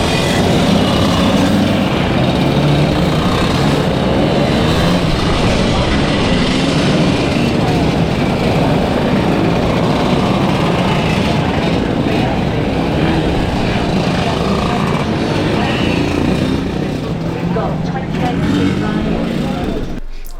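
Motor scooters set off together at the start of a race, a dense, loud, continuous roar of small engines with voices mixed in.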